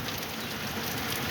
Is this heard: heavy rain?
yes